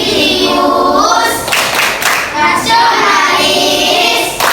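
An elementary class stands and performs the rhythmic Tepuk PPK clapping chant, loud group claps in patterned bursts mixed with children's chanting voices, close and lively throughout.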